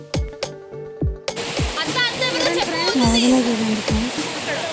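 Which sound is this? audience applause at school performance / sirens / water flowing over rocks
water flowing over rocks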